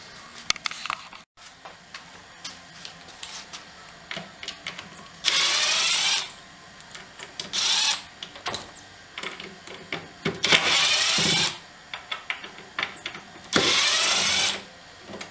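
Cordless power drill backing screws out of door hinges while hollow doors are swapped for solid wood ones, several separate whirring bursts of a second or two each, close by, with clatter and handling noises between them and no talking.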